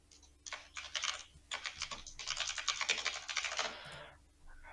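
Quick bursts of keystrokes clatter on a computer keyboard, rapid and fairly close, pausing briefly between runs of typing during work in BlenderBIM.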